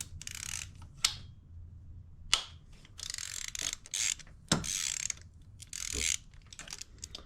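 A ratchet loosening 10 mm bolts on a 2011 Chevy Malibu, rapid clicking runs of the pawl in short bursts, broken by sharp knocks and pauses, close up with no talk.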